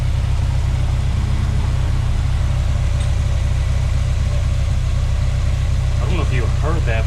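Older car engine idling with a slight misfire, a steady close low rumble with faint uneven stumbles, and a person briefly talking near the end.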